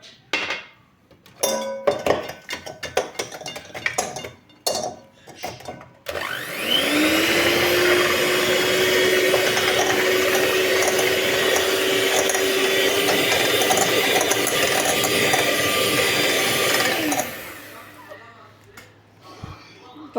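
An electric hand mixer whips egg yolks with sugar for a cake, spinning up to a loud, steady whine that holds for about ten seconds before stopping. Clinks and clatter of bowls and utensils come before and after.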